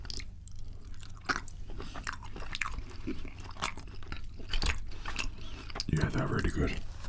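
Crunchy Chinese-style chicken is chewed close to the microphone, giving irregular crisp crunches and bites in a quiet room with faint mouth sounds and no clear talking.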